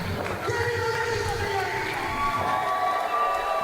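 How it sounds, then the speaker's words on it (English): Crowd at an intergender wrestling show roaring in ovation, a dense sustained wall of cheering and shouting with music-like tonal lines running through it, steady and loud for the whole stretch. "a crazy ovation from the crowd"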